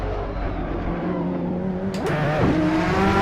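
Race car engine in the Assetto Corsa racing game during a Le Mans race, a loud, steady engine drone that swells slightly toward the end, with no talking.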